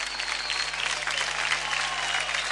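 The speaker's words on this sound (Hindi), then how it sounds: "एक बार जोरदार तालियां वैष्णवी के लिए।" Studio audience at the TV dance show DID Little Masters bursts into steady, full applause for a young contestant, a dense wash of clapping lasting a couple of seconds.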